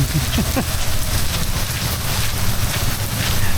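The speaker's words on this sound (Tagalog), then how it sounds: "Ay, lumalakas ulan." Steady heavy rain from Typhoon Crisin hisses close by in Tanza, Navotas, Philippines, mixed with gusty wind buffeting the microphone, continuous throughout.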